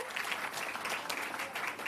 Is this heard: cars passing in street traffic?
no